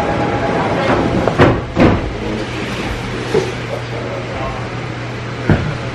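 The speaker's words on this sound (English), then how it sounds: "Our train is here now." A train pulling into a Seoul subway station in winter rumbles steadily under a constant low hum, with a few clanks and clicks of the cars as it arrives, heard up close amid station ambience.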